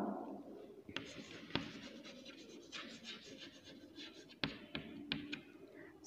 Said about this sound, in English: So let us write the number.